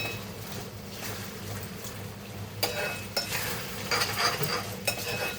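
Prawn chili thickened with cornflour stirred in a pan, a soft sizzle with spoon scrapes and clinks that grow louder and more frequent in the second half.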